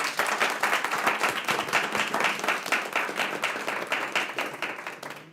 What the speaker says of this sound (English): that within itself deserves a round of applause